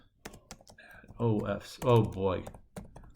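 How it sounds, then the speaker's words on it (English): Keys clicking on a computer keyboard as an email address is entered, a rapid run of sharp taps at the start and end, with someone speaking in the middle over quieter typing. "Type it in again just to make sure I got it correct."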